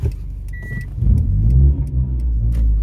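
A manual-transmission car engine rumbles low and shudders, swelling briefly as it revs, then settles into a steady drone.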